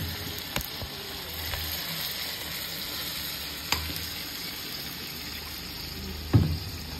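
Tomato, garlic, ginger and onion paste hiss and sizzle continuously in a hot pan, with a few sharp spoon knocks and stirring scrapes, the loudest near the end, and no talking.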